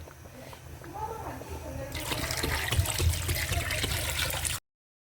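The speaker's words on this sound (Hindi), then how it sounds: "अब हम इसमें तकरीबन 2 लीटर पानी डालेंगे।" Water pours into a cooking pot of paaye (trotters) after the masala is fried in oil, about two litres, a steady rushing splash that grows louder partway through, with a low background hum.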